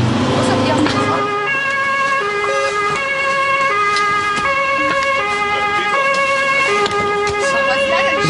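A police car siren (Martinshorn) sounds on an emergency run, with its two-tone wail repeating loud and close over road noise throughout.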